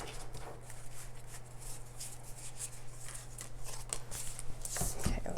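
Tarot cards are shuffled by hand in quick papery riffles and slides, close and fairly soft, with a louder flurry of card noise near the end and a low steady hum underneath.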